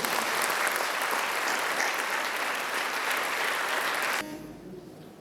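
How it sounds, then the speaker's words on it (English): Loud, sustained applause at a school graduation ceremony for the class of 2024, a large crowd clapping densely before cutting off abruptly near the end to near quiet. "So a massive round of applause to the TISB graduating class of 2024."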